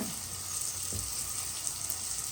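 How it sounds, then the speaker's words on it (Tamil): Fish curry bubbles in a pan, a close, steady hiss and sizzle with a few soft low pops of simmering liquid and no voices. "இது நல்லா கொதிக்கட்டும்."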